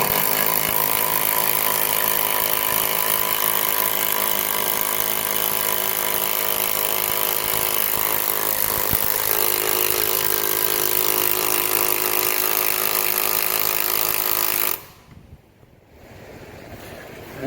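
A power driver spins the screw of a comb honey press that has a nut welded on top. It makes a loud, steady whirring grind that runs for about fifteen seconds and then cuts off abruptly.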